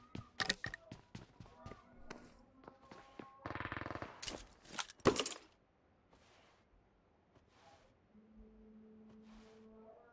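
Rapid Mini 14 rifle shots ring out in PUBG Mobile, a quick series of sharp cracks followed by a dense burst of automatic fire and a few further blasts, then quieter game ambience.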